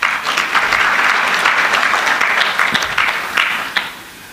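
A conference audience claps in sustained, dense applause that stays strong for several seconds, then thins into a few scattered claps and fades out.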